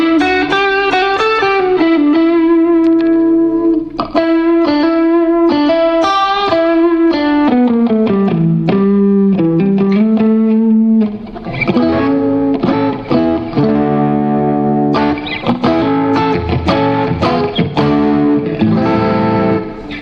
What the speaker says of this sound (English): This mod reverb, it's really interesting.